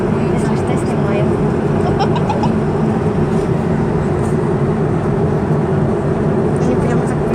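Inside a passenger airplane cabin rolling for takeoff, a loud, constant engine roar and rumble fills the space while people talk over it.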